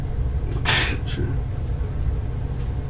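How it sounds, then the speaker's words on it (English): A single brief sneeze bursts out in a video game session of The Devourer Below, fairly close and loud over a steady low room rumble. "Is that a sneeze?"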